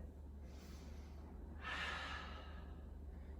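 Slow, steady breathing during a backbody/frontbody power yoga flow, with a louder breathy exhale or sigh near the middle rising over a constant low hum of room noise.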